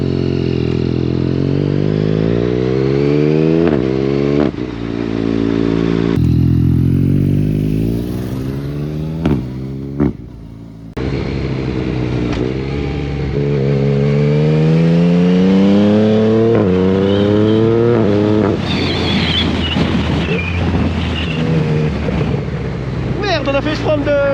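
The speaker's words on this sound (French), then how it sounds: "Je vais surtout vous faire écouter le bruit du shifter." A Yamaha MT-09 Y-AMT motorcycle accelerates hard on a ride, its engine note sweeping up through the gears with quick shifter changes and brief dips between pulls, loud and close throughout.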